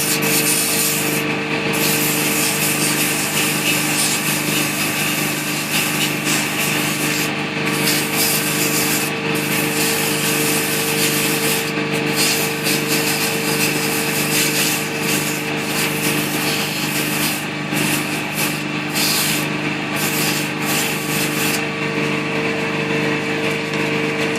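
Steady, continuous abrasive rubbing of sandpaper against the top rim of a wooden snowman ornament spinning on a lathe, with a constant motor whine underneath; loud and close, unbroken throughout.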